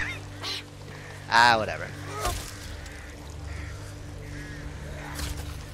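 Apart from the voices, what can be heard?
birds squawking in Back 4 Blood video game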